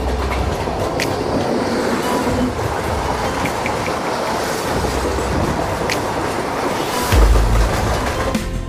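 The 12343 Darjeeling Mail passenger train runs on its rails with a steady rumble and rhythmic clickety-clack of wheels, heard close from inside the train.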